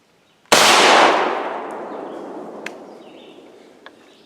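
A single loud, close blast from a 12 gauge Winchester Super X Xpert waterfowl shotgun shell is fired at a target 40 yards away, then a long echoing tail fades slowly, with a couple of faint clicks near the end.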